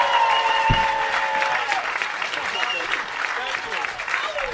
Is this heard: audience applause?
yes